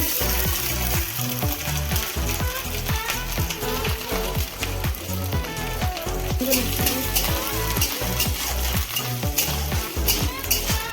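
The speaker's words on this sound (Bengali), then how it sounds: "নারকেলটাও ভেজে নিচ্ছি" Steady, busy sizzling of coconut frying in hot oil in a wok, with rhythmic scraping and stirring clatter throughout, close and fairly loud.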